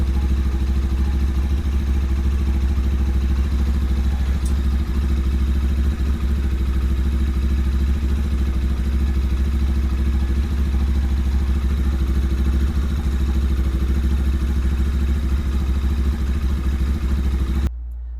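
A 2025 Lifan KPT 400cc motorcycle engine idles steadily after an oil change on a fully broken-in engine, a constant low throbbing hum close by, unchanging until it cuts off at the very end.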